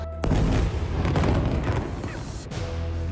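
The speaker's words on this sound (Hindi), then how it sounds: "बस होता है एक जबरदस्त धमाका" A heavy, booming explosion brings down a multi-storey building in Gaza, erupting and rumbling on with a dense roar and crackling debris, loud and close, with a second jolt near the end.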